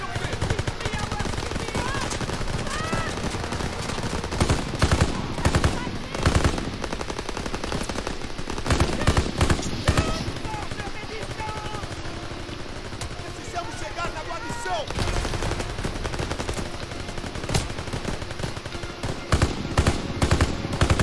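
Call of Duty WWII battle gunfire: sustained, loud machine-gun bursts and rifle shots that run throughout, with shouted voices heard over the shooting.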